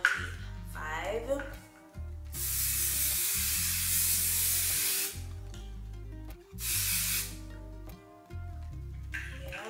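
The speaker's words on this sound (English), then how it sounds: "I'm gonna be spraying my hair with the Super Whole Finishing Spray by Kenra" Kenra Super Hold Finishing Spray, level 25, sprayed onto hair in two long, close aerosol hisses separated by a pause, over steady background music.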